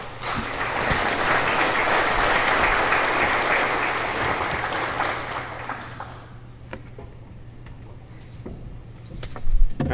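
A crowd applauds at a Manufacturing Day event, a dense sustained wash of clapping that fades out after about six seconds, leaving scattered claps and quiet room noise.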